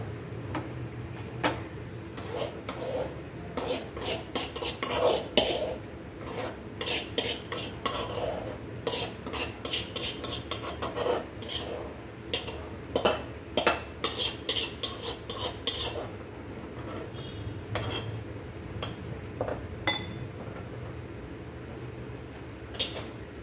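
Metal spoon scrapes and clinks against a pan and bowl in quick irregular taps while ridge gourd chutney is transferred, close and fairly quiet, with faint sizzling underneath.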